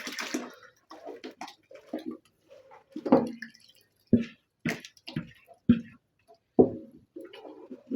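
Lumps of maize porridge mixture dropping into hot water while preparing traditional thobwa, a series of separate wet plops and drips close by with short gaps between them and no talk.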